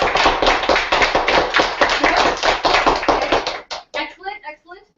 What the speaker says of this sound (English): So let's give that a round of applause for yourself